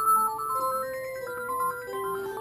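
The SNK Neo Geo 4-slot console plays its startup jingle: a short, bright synthesized melody of stepping tones at moderate volume. No voices.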